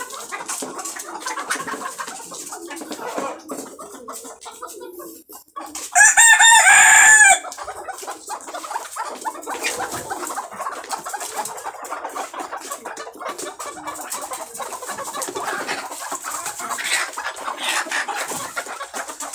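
Desi chickens cluck continuously nearby while drinking calcium-mixed water, with one loud rooster crow breaking through partway, no talk.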